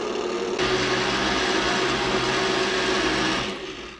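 A blender whirs loud and steady for about three seconds, pureeing a thick coconut curried carrot soup, then spins down at the end with no talking.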